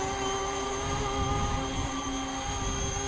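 E-Flite Convergence VTOL RC plane electric motors whine steadily with high, tonal buzzing, holding an even pitch throughout at close range.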